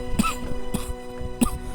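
Three harsh coughs from an elderly mother coughing up blood come at uneven intervals over a steady background hum, close and moderately loud.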